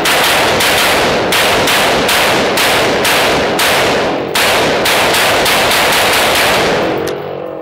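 A Colt AR-15 SP1 rifle fires a rapid string of loud, sharp, close shots in quick irregular succession, nearly a dozen reports with short gaps between them, then stops.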